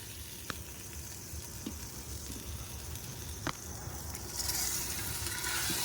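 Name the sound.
food cooking in a pot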